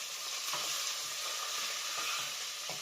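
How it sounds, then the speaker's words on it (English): Pork frying in a hot pan for sweet and sour pork, a steady close sizzle with occasional soft stirring bumps and no talking. "that sizzling sound's a really good sound that you've got a nice warm pan"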